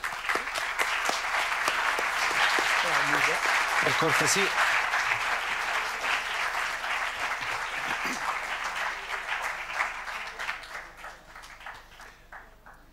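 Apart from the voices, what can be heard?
audience applause for a lecturer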